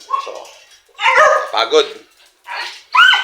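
A pet dog at home barks in short bursts and whimpers between them, loud and close, with someone talking over parts of it.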